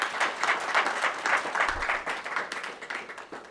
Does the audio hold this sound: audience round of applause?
yes